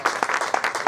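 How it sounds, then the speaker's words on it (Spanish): A church congregation claps in a steady rhythm during a worship service, a dense, fairly close patter of many hands. "A su nombre, dele palmas al Señor, hermano"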